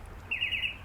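Backyard poultry, likely chickens or turkeys, give a short, bright chirping call that lasts about a third of a second against quiet outdoor background noise.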